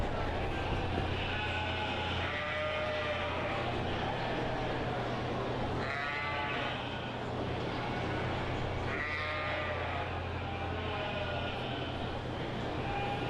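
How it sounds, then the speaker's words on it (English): Suffolk sheep bleating at a county 4-H livestock show, several wavering bleats rising over a constant low hum from the show hall and ring. "Our Suffolk aged ewes are now entering the ring."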